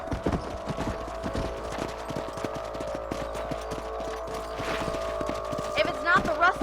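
Horses gallop along at a steady clip-clop in Red Dead Redemption, hooves thudding rhythmically through the whole stretch over a constant ambient hum, with speech heard throughout.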